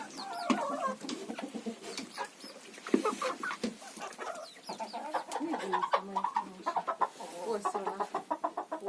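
A hen clucks repeatedly nearby in short, uneven bursts, with other fowl chattering softly around it.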